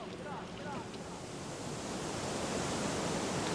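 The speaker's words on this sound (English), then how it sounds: "The healing sound of water on rock is what attracted early conservationists." Water rushes over rock in Yosemite, a loud, continuous broadband roar that swells slightly toward the end, with faint bird chirps briefly audible early on.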